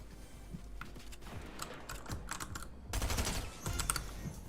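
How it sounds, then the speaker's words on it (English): Video game gunfire in quick irregular bursts, moderately loud, with a denser volley near the end, mixed with keyboard clatter and no talk. "Stop shooting at me!"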